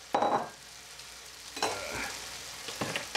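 Carrots and onion tipped into a pan with browning beef, three bursts of loud sizzling and stirring that flare then settle into a quieter crackle between them.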